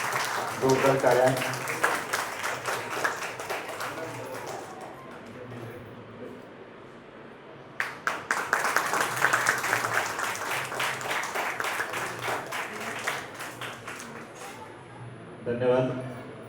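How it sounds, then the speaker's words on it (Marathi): Loud audience applause at an Indigenous People's Day gathering in Nagpur, a strong round of clapping early, a quieter lull with speech, then a longer vigorous burst and a brief final flurry. "जोरदार टाळ्या."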